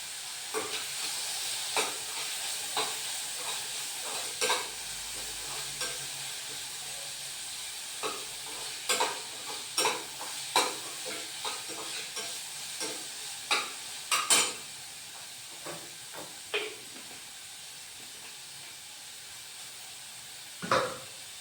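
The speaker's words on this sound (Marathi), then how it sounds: "कांदा टोमॅटो टाकून आपण त्याला चांगलं वाफवून घेऊ, म्हणजे त्याची पण थोडीशी ग्रेव्ही होते ना." Onion and tomato cook in a pan for rajma, with a soft steady sizzle under repeated sharp scrapes and clacks of a spoon stirring against the pan, irregular and close.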